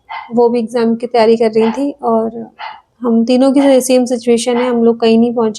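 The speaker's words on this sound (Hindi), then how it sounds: "बाहर कुत्ता भौंक रहा है" A dog barks outside, its barks blending beneath continuous close talking that dominates throughout.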